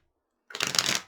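Twisted Oracle cards shuffled in one brief, close riffle after a moment of silence, a quick crisp flutter of cards.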